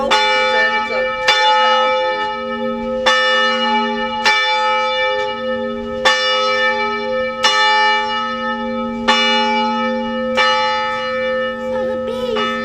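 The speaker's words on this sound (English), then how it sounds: "so it's got a rope. It's a bell." A rope-rung church bell tolls in a slow, regular rhythm, each strike ringing out loud and close with long humming overtones that sustain between blows, about eight strokes with faint background voices.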